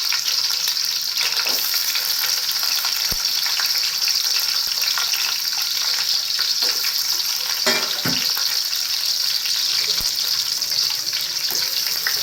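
Onions fry with cumin seeds in oil for a fish curry, producing a loud, dense, steady sizzle up close, with a few brief clatters from a utensil.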